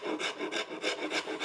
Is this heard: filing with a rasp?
yes